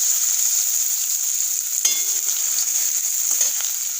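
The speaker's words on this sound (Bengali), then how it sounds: "দিয়ে দেব কুচনো পেঁয়াজ।" A steady hiss of hot oil with bay leaves, then a sudden burst of sizzling as chopped onions hit the pan, close by.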